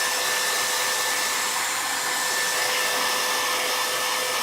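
A hair dryer blows continuously at close range, a loud steady whooshing roar with a faint motor whine, drying fresh milk paint on a piece of furniture.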